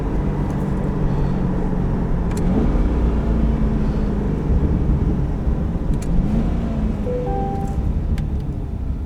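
A 2021 Chevrolet Corvette 1LT with performance exhaust on the move, giving a steady, loud low engine drone with a few rising gear-change sweeps. No one speaks over it.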